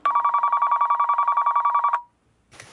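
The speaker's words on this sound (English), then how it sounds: "I think I hear the phone ringing." A telephone rings in a fast, steady electronic trill lasting about two seconds, loud and close, then cuts off into near silence before a faint noise starts at the end.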